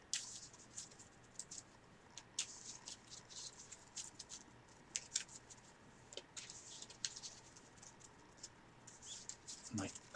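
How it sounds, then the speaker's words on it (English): Sleeved cards from a discard pile in The 7th Continent board game are shuffled by hand, giving faint, close, papery riffling and soft slapping in irregular bursts with quiet background talk. "So I'm going to shuffle my discard pile."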